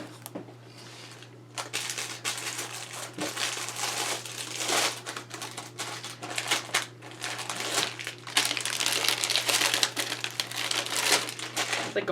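A plastic package of A5 page protectors is handled in a craft room, producing continuous close crinkling and crumpling of stiff plastic that grows busier and louder toward the end.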